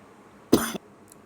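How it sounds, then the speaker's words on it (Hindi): A single short, sharp cough, close to the microphone, in an otherwise quiet room. "थोड़ी सी खांसी आ रही है"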